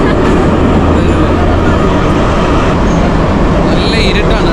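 Loud, steady rumble inside a moving Tashkent metro carriage, with a dense low roar and hiss filling the whole stretch and a brief higher squeal near the end.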